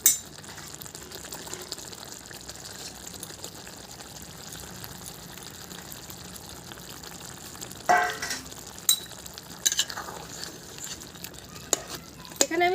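Tilapia fish going into a pan of taro leaves already frying in oil, giving a steady low sizzle with stirring, then a few louder bursts and clatters as the pieces land and are moved around, with no talking.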